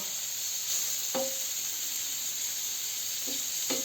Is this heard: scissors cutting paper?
no